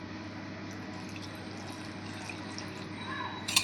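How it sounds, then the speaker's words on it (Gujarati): Water is poured into bread pakoda batter seasoned with turmeric, cumin, garlic, chili and baking soda: a faint, steady liquid trickle in a quiet kitchen, rising into a brief louder splash at the end. "પછી પાણી નાખશું"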